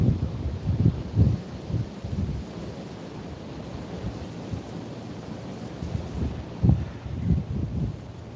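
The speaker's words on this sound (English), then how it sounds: "Oh, that's the wind." Wind gusting outdoors at night, a broad low rumble that swells and eases in uneven waves, loud close buffeting alternating with calmer stretches.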